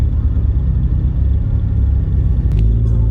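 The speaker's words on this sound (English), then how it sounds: "That is the MR2 rumble." Toyota MR2 engine rumbling steadily up close, a constant low drone with no pauses and no talk.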